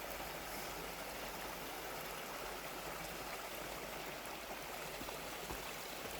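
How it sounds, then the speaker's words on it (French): Water spills over stacked stones in a small outdoor cascade, making a steady, faint, unbroken rushing hiss. "Non, je filmais la cascade."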